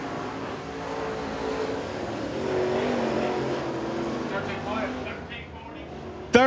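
A crate late model race car runs a qualifying lap on a dirt speedway, its engine droning and revving steadily at a distance, beneath a commentator talking over a loudspeaker, ending in a sharp loud bang.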